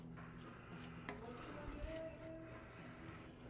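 Bacon bourbon jam with brown sugar and onions being stirred in a pan, a steady soft scraping and clinking of utensil against cookware with low background hum, faint and continuous.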